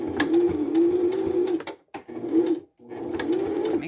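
A sewing machine back stitches a small pellet-filled fabric phone pillow, a close, steady whirring hum in several runs separated by short pauses.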